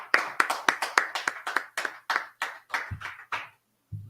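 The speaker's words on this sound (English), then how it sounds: "go ahead and clap it up" A steady series of about a dozen sharp hand claps from one person, slowing slightly toward the end and then stopping, close and clear in a quiet room.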